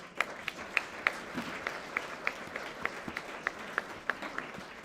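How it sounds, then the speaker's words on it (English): Moderate, fairly distant applause from an audience at a democracy leadership event, with a few sharper individual claps standing out in a loose rhythm. "Let's give another round of applause."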